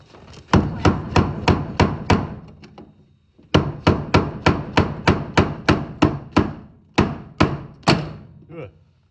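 Sharp metallic strikes of a screwdriver hammered against the fuel pump lock ring of a 2007-2014 Chevrolet Silverado, in steady rapid bursts, about a dozen blows, a brief pause, then another run of hits, close and loud.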